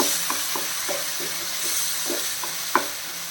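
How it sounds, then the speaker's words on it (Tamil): Ground tomato paste sautés in a pan with a steady close sizzle and a few scraping stirs of a spoon, one sharper clack near the end, no voices. "இதையும் சேர்த்துட்டு இதோட பச்சை வாசம் போகிற வரைக்கும் நம்ம வதக்கணும்"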